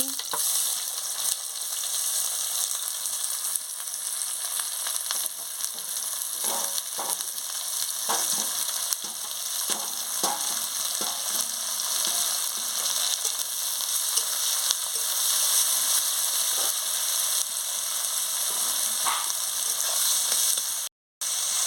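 Chopped onion fries in hot oil, giving a dense, constant sizzle close by, with occasional light stirring taps in the middle and a sudden cut-off just before the end; no talking is heard.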